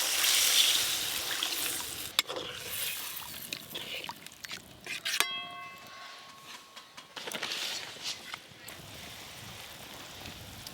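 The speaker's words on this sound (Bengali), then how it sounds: "এবার গ্রেভির জন্য পরিমাণ মতো জল দিয়ে দেব।" Water poured into a pan of fish curry over oil-released fried masala to make gravy, a broad splashing rush with short trickles and clinks, close and moderately loud, without talk.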